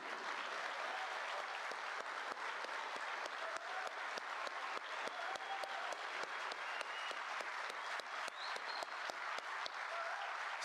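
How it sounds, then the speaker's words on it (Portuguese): Sustained applause from a large audience at a Brazilian public security event, honoring President Lula; dense, even clapping fills the whole stretch at steady volume with no speech over it. "eu peço uma salva de palmas para o nosso presidente Lula"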